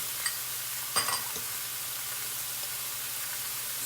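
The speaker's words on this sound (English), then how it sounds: "Take some peppercorns in the pan" Peppercorns and ginger sizzling in a hot pan, a steady soft hiss with a couple of sharp clatters near the start as they land, and no speech.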